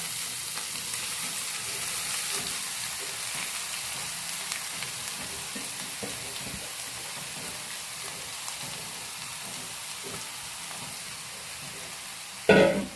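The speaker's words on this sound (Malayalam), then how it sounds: "ഇതൊന്ന് ഇളക്കി ഇളക്കി ഇങ്ങനെ വേവിച്ചാൽ മതി" Chopped greens for Kerala thoran stir-fry in a hot pan, giving a steady, soft sizzle with scattered crackles and a sharp clink of the utensil near the end, with no one talking.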